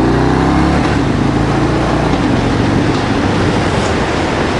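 Steady, loud engine drone from a 2016 Harley-Davidson Fat Bob while riding, with low rumbling harmonics and continuous road and wind noise filling the clip without any talk.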